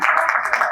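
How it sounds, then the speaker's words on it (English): Brief burst of audience applause at a real estate technology event, a dense wash of many hands clapping together, steady and fairly loud for under a second. "Let's give a round of applause, everybody."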